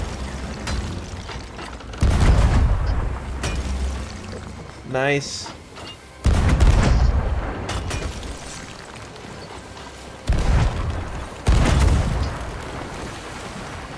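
Ship cannons fire in a Sea of Thieves naval battle at a fort, heavy booms landing repeatedly at intervals under players' excited voices, with a whistling projectile sound in between.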